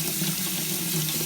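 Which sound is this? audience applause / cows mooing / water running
water running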